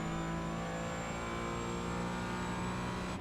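A Porsche Cayman GT4 engine holds a loud, sustained high-rev drone on the Brands Hatch circuit, steady and close throughout with no voices.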